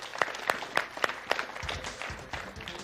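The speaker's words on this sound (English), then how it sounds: "Let's have a big round of applause for my man" A small audience at a basketball shooting session claps for a shooter, with a few loud separate claps early on and then sparser, softer clapping.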